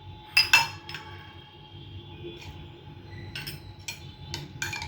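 A spoon clinks against a bowl while cucumber salad with salt and crushed peanuts is mixed, giving a few sharp metallic ticks at the start and then scattered lighter taps over a low kitchen background.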